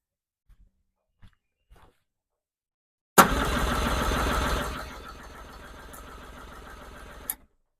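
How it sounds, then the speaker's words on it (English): A Yamaha Pro 50 two-stroke outboard boat engine cranks over on the starter for about four seconds without firing, a steady rapid whirring that softens partway through, preceded by a few faint clicks and ending with a sharp clunk. "And I'll crank the engine"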